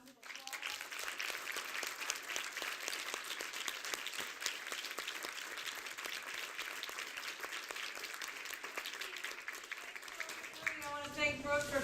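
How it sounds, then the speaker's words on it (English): A lecture audience gives a long, even round of applause in a hall, with dense clapping that keeps going for about ten seconds before a voice comes in near the end. "Let's give another round of applause."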